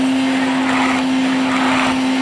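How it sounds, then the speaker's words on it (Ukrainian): A Soviet-style Taifun vacuum cleaner runs loud and close, giving a steady whining motor drone with a sustained hum and airy rushing noise throughout. "пробуємо, як він дуже дуже добре бере хоча радянського стилю і пилососимо"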